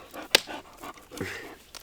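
A dog named as having just run a long way breathes in quick, soft panting bursts with a sharp snort or sniff near the start, close by and fairly quiet, with no talking.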